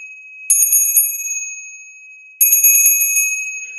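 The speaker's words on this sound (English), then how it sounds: "This is a real copper bell." An old copper bell is rung twice, each strike ringing out bright and near with a long shimmering decay, separated by about two seconds of fading tone.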